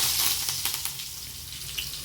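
Curry leaves and garlic crackle in hot oil while tempering for a dry banana fry curry, giving a steady broadband sizzle with a few sharp pops.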